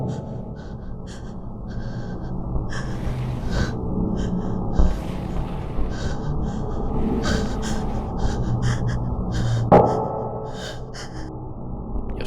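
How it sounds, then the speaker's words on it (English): Loud, heavy breathing with gasps and snorts, a steady run of close, noisy breaths with a few sharper catches, heard alone without talk. "Stop breathing so loud, too."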